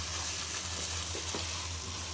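Soaked rice frying dry in a pot for a homemade Bangladeshi pulao gives a soft, continuous sizzle, fairly quiet and steady throughout with no voices over it.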